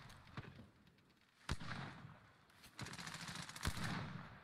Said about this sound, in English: Oh no, I'm getting shot in the back now.